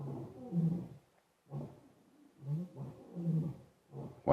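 A second male lion joins in roaring nearby, deep rhythmic grunts pulsing about once a second, heard at moderate distance with no talk over them.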